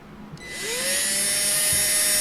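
A power drill spins up into a steady high whine as the bit bites into metal on a 1972 Ford Ranchero, continuous and close.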